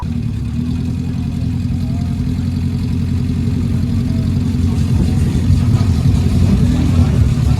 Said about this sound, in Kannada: ಸೂಪರ್ ಬೈಕ್ಸ್ ಎಲ್ಲ ಸೌಂಡ್ ಮಾಡುತ್ತಲ್ಲ ಸೊ ಆ ರೀತಿಯ ಒಂದು ಸೌಂಡನ್ನು ನಿಮಗೆ ಈ ಒಂದು ಬೈಕ್ ಕೊಡುತ್ತೆ